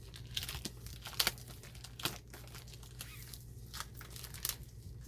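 Plastic packaging around a pack of twelve double-sided Italian scrapbooking papers being opened, with irregular crinkling and sharp tearing bursts, close and fairly quiet, with no talk.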